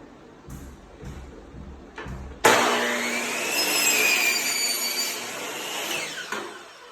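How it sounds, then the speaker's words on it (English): A chop saw cuts a 45-degree angle on door trim: a few short knocks and handling sounds, then a loud, sudden whine as the blade spins up and cuts for about four seconds, fading near the end. "It's called a chop saw. It cuts much faster."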